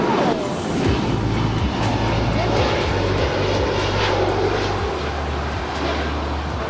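An airliner lands on runway 25 left at Los Angeles LAX, its engines producing a loud, steady roar at middle distance, with a tower radio voice faintly audible underneath.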